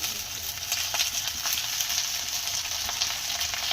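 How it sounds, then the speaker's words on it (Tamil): Moringa leaves stir-frying with onion in a pan give a steady, dense sizzle with light crackles throughout, close and constant, with no talk. "இப்போ நம்ம முருங்கைக்கீரை ஆட் பண்ணிக்கிறோம்."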